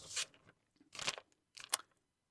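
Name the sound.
crunching Pumpkin O's cereal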